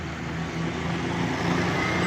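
A 1996 Toyota Corolla with a 12-valve engine pulls up on a road after tuning, its engine giving a steady, fairly close hum with a rising low drone.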